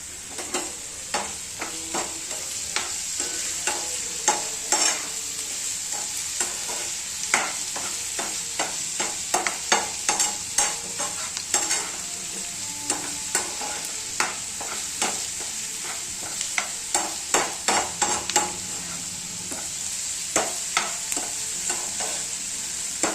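Onion frying with salt in a pan: a soft, steady sizzle under repeated sharp scrapes and clacks of a spatula stirring at an irregular pace, with no talk.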